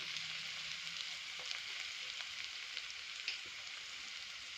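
Cumin seeds, chillies and grated ginger frying in a pan, giving a steady, close, bright sizzle with faint crackles and a few brief stirring clicks, with no talking.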